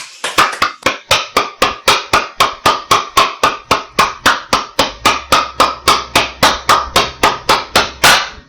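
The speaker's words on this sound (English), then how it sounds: "clap your hands one more time" Audience at a seminar bootcamp clapping in unison: a long run of loud, sharp, evenly spaced synchronized claps, about three per second, with a low hum joining partway through.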